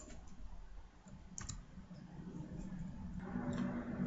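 An answer being typed on a computer keyboard during a maths test, faint scattered key clicks over low room noise, a few sharper taps standing out.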